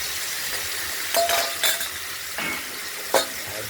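Boiled ash gourd pieces fry in hot oil with a steady sizzle, while a utensil stirs and clinks against the pan in several short scrapes.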